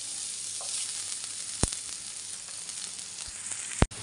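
Onions sizzle and fry in hot oil in a pan for a steady broadband hiss throughout, with a couple of sharp clicks of a utensil against the pan.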